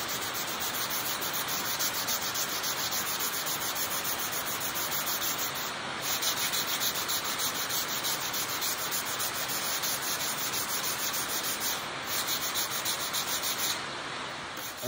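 Canoe surface on a Freedom 17 build roughed up by sanding before thickened epoxy goes on, a continuous loud scratchy rubbing hiss with a steady back-and-forth texture, close by and without talk.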